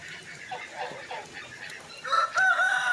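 Hens clucking softly and irregularly in a wet outdoor yard, followed by a louder rooster crow rising near the end, with no talk over them.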